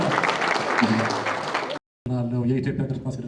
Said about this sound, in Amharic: አጨብጭቡ እስቲ።